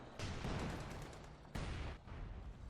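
Continuous gunfire and cannon fire from a Company of Heroes 2 battle, dense overlapping bursts and booms forming a loud, steady barrage with a sharper blast partway through.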